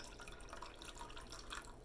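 Liquid trickles into a plastic measuring cup marked in milliliters on its side while a home baker measures out about 200 grams for bread. The thin, splashy pour is faint and continuous, with no talking.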